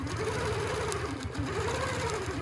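A sewing machine stitches a quilting pattern with a ruler foot, a steady fast mechanical hum and rapid needle chatter running continuously, close and even.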